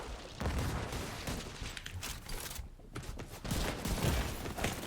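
Gunfire in the video game Division 2, dense fusillades of rapid shots with booms that pause briefly and then resume, loud and continuous throughout.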